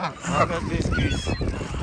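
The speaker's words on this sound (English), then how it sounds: "Look at these geese." Geese honk close by outdoors while being fed wheat bread, several short nasal calls overlapping amid a voice speaking.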